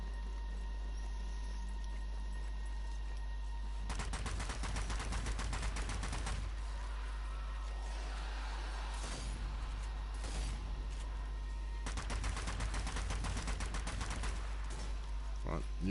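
Rifle and automatic gunfire in a World War II shooter video game, dense bursts of rapid shots in two long volleys with a lull between, loud and close.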